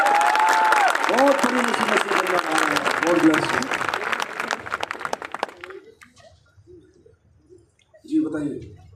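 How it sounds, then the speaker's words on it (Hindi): A small group gathered for a patient cured of a serious illness claps loudly and steadily for about five seconds. The clapping then tapers off, someone speaks over it, and there is a brief burst at the end. "अरे यार इसके लिए ताली बजाओ"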